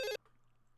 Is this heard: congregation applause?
no